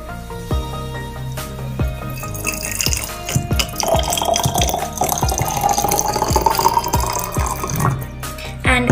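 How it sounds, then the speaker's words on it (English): Water pours steadily into a glass bottle with gurgling and rising tone, punctuated by occasional clinks and drips. "First, put some hot water into the glass bottle."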